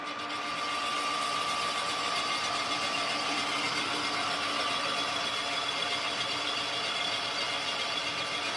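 A boring machine cuts a cylinder in a small block Chevrolet engine block, giving a steady, continuous mechanical whir with a faint whine, moderately quiet and unbroken for the whole stretch, with no talking.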